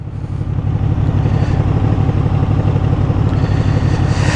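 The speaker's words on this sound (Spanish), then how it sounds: "cuando la moto está paradita así en punto muerto" A QJ SRV 600 motorcycle idles steadily in neutral nearby, a low, even rumbling putter that holds constant throughout, with no voices.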